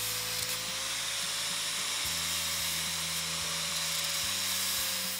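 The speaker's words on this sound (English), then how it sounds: "If necessary, use the angle grinder to shape the toe." Angle grinder shaping the toe of a sow's hoof, a steady high whirring drone with low rhythmic thumps and shifts in tone as the tool bears on the hoof, continuous and close.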